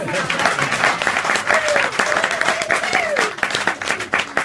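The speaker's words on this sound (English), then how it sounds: "Can you clap for the MC?" Audience at a leadership awards event clapping for the MC, a dense, sustained round of applause with a few sharper individual claps standing out and a voice calling over it at moments.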